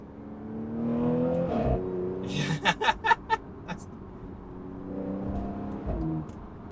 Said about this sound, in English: So third gear, let's do the downshift here.